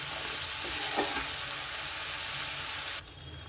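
Spices with turmeric, cumin and ginger being stir-fried in a pan, a continuous hiss of sizzling oil with soft scraping stirs, close and steady before dropping abruptly quieter near the end.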